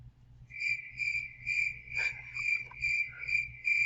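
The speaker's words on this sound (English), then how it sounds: "Wait, where are my crickets?" Crickets chirp in a sound effect, a bright, regular train of short pulsed trills repeating steadily over a quiet low background, with no voices.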